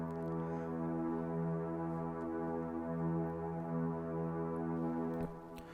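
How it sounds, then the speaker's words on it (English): String synth line from an Afrohouse track made in FL Studio, a steady, sustained chord held straight for several seconds at a moderate level, cutting off near the end, with no voices. "But the string goes straight and it sounds like this."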